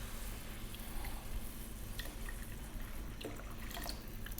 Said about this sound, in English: We're going to drop water in.